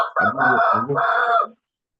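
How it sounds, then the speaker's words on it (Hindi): A rooster crows nearby in one loud, drawn-out call of broken, wavering notes that ends abruptly and leaves silence. "इसके यहाँ का मुर्गा कुड़कुड़ कर रहा है"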